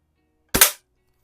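A Daisy air rifle, model 860 or 901, fires a single sharp snap that fades within a quarter second, close and alone in a quiet room.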